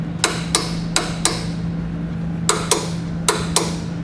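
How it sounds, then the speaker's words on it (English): A 19mm socket and wrench torques down the bolts of a Class III trailer hitch receiver on a 2015 Nissan Rogue, giving eight sharp metallic clicks in two groups of four, close and crisp over a steady low hum. "I'm going to come back with that same 19mm socket, and I'm going to torque all my hardware down"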